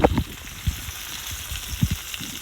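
Steak frying in a pan gives a soft, steady sizzle with a few faint crackles and pops, close by and quiet, with no talking.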